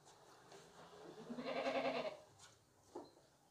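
A tall, meaty male goat, newly separated from its herd, lets out one loud, drawn-out bleat, followed by a shorter faint call and a brief grunt at close range.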